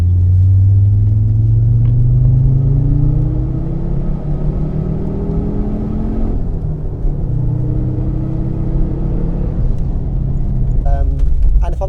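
A Fiat Coupe fitted with a Lancia Delta engine accelerates hard. Its loud engine note climbs steadily through the gears, then settles and climbs again, with a voice briefly audible.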